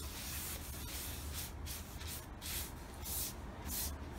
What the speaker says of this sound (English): I'm going to start with the sides of the thing, just light coat, light strokes